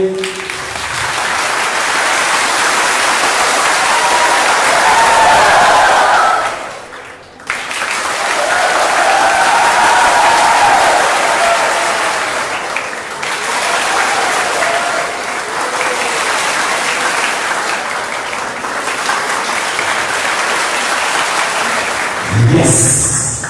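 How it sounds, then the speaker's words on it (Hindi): An audience at a university youth program claps steadily together as a group. The loud, even applause runs for about twenty seconds, breaks off briefly partway through, then resumes. "let's create a music with the clap"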